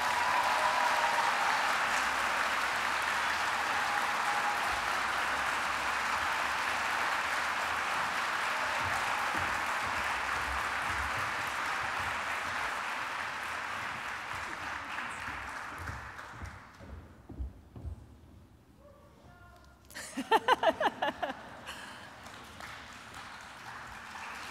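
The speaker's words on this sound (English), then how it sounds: "lots of applause" Audience applause at a college honors medal ceremony, a long steady roar of clapping that slowly fades out, followed by a few footsteps and then a voice speaking.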